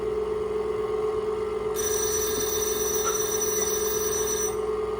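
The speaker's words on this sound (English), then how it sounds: "There goes my timer for my water sprinkler." A timer alarm for a water sprinkler rings steadily with a high electronic tone over a constant hum in a kitchen, lasting several seconds before cutting off, with no talk.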